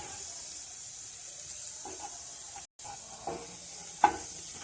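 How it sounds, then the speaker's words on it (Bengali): Chopped ginger frying in mustard oil in a kadai gives a soft, continuous sizzle with occasional stirring clinks and one brief dropout, fairly quiet and steady. "আদাটা একটু ভাজা ভাজা হবে।"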